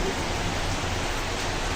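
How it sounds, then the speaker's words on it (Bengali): Heavy rain pours down as a dense, continuous wash of noise, close and steady for a short stretch with no distinct individual drops. "দেখুন মেঘ ডাকছে, বারে প্রচন্ড বৃষ্টি হচ্ছে"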